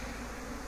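Honeybees buzz steadily around a hive box at an apiary in Santeny, a continuous near drone that holds evenly with no talk over it.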